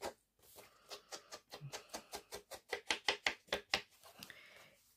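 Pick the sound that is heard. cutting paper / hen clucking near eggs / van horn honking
cutting paper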